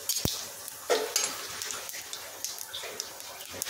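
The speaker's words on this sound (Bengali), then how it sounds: "গোটা জিরে ফোড়ন" Whole cumin seeds crackle and sizzle in hot oil, a short bright hiss broken by a sharp tap and a few metallic utensil clinks, fairly close and without talk.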